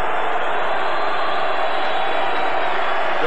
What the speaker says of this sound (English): draws a mixed reaction from the crowd